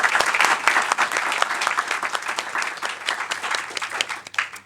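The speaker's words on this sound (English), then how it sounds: "Can I ask for a round of applause?" Conference audience clapping after a session talk on procurement systems, a loud burst of individual claps that stays dense, then thins and becomes more scattered toward the end.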